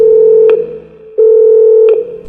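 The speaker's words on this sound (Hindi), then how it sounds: "कि तभी कॉरिडोर का फोन बजा।" An electronic telephone tone sounds loudly in a hotel corridor, two long steady beeps separated by a brief pause, alone with no voices.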